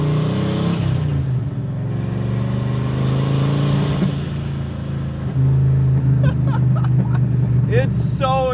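A Nissan R34 Skyline with a V8 swap and big turbo accelerating loudly, a deep sustained engine drone rising and dropping in pitch, with people talking over it near the end.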